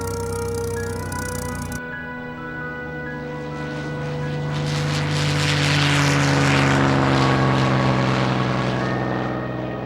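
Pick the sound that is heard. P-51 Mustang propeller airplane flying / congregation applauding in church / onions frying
P-51 Mustang propeller airplane flying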